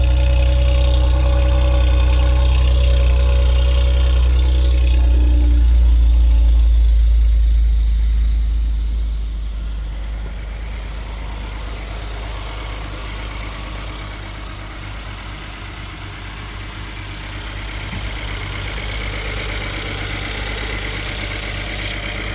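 A 2013–2019 Ford Taurus Police Interceptor with a 3.5L EcoBoost V6 and straight-pipe exhaust idles loud and close, a deep steady rumble that eases slightly after several seconds and then holds.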